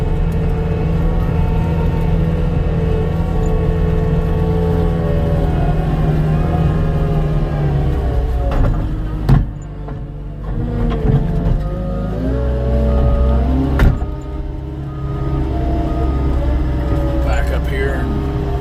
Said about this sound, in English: I'm shifting down before I make my turn